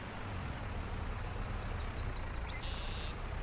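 Tractor engine in a homestead farming video game, a steady low diesel rumble running continuously at close range, with a brief high beeping tone near the end.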